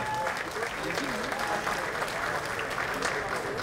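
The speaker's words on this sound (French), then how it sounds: "On peut applaudir bien fort cette très belle ceinture." A boxing world-championship crowd keeps up steady, dense applause and cheering while the championship belt is presented, with a voice talking over the clapping throughout.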